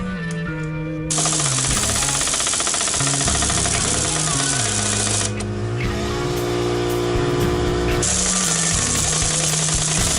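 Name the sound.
impact wrench pressing out old U-joint on 1997 Chevy S10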